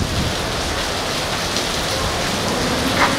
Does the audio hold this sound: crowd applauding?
no